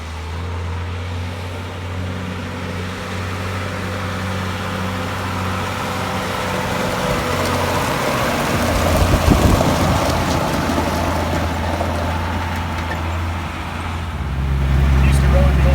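An M756A2 pipeline truck with a multi-fuel engine drives down the road, its low, steady engine drone and road rumble filling the cab continuously, with rain-like hiss on top and a brief bump around the middle.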